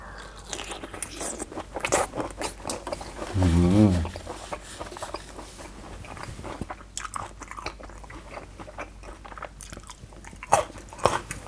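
Crunchy chewing and biting of Lao-style spicy raw shrimp and cockle salad with chili dip, close and loud, with one burst of crunching near the middle and talk around it.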